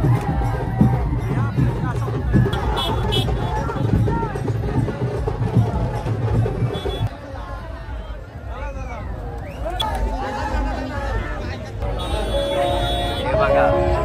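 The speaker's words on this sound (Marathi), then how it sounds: "हाच आगरी कोल्यांचा खरा जल्लोष आहे" Dense festive crowd roaring and cheering at the Ekvira temple palanquin procession of the Agri-Koli community, a continuous loud hubbub with shouting voices and occasional horn toots, thinning slightly midway before swelling again.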